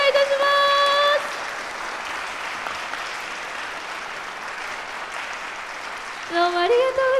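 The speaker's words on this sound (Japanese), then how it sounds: "どうぞ盛大な拍手をお願いいたします" Sustained audience applause at the close of a flute ensemble's regular concert, steady and full-bodied, with brief held tones sounding at the start and again near the end.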